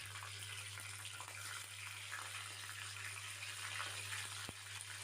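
Cumin seeds dropped into hot oil in a pan for tempering a vegetarian potato and soya chunk curry give a faint, steady sizzling hiss over a low electrical hum.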